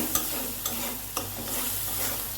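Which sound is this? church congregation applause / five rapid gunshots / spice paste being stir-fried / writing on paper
spice paste being stir-fried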